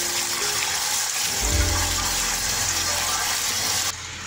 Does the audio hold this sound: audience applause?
no